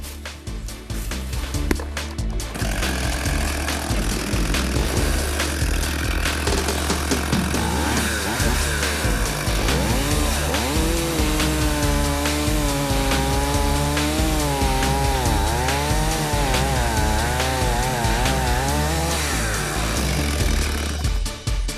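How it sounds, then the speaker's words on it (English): A chainsaw cuts firewood at a resort, its engine loud and steady throughout with pitch wavering as the chain bites into the wood, with music playing underneath. "Oh, look what I have, a chainsaw."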